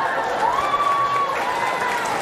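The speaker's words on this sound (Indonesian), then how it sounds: "Kenapa tepuk tangan?" Audience applause fills a gathering for a Nuzulul Qur'an night sermon, with steady, dense clapping throughout and a thin whistling tone drifting over it.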